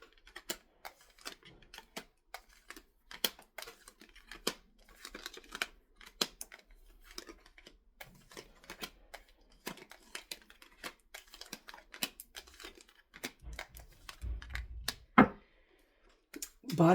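Tarot cards being dealt out one by one onto a surface, soft quiet repeated flicks and taps in an irregular rhythm, with a few louder handling thumps near the end.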